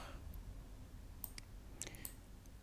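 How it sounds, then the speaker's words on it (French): Faint mouse clicks during work in structural design software, a few sharp isolated taps spread over a quiet background. "Donc on clique ici sur barre."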